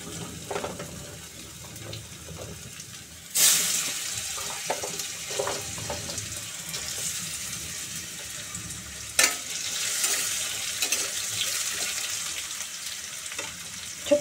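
Diced potatoes and pumpkin go into a hot pan with asafoetida and start frying. A steady sizzle runs under stirring, with two sharp bursts as pieces hit the oil, and no voices.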